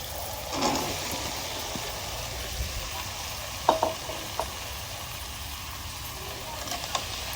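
Masala sizzles steadily in a pan while being stirred for a bottle gourd and prawn curry, with a few sharp spoon clinks rising over the soft frying hiss.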